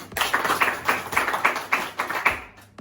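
A short burst of clapping in a class quiz setting, a handful of distinct claps at an uneven rhythm, fairly close, fading out at the end.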